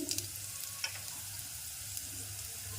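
Garlic and asafoetida sizzling in hot oil in a pan, a steady soft frying crackle with a few faint clinks, close and alone with no talk.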